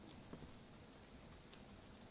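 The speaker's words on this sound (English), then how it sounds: "I can hear it raining." Steady rain falls in the video game ARK Survival Evolved, a soft continuous hiss of drops on surfaces, fairly quiet and even throughout with no talk.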